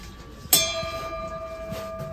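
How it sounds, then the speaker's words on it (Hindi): A metal bell in a Delhi furniture market is struck once, giving a sharp clang that settles into a long ringing tone with a lingering hum over quiet background noise. "इस घंटी की आवाज देखिए,"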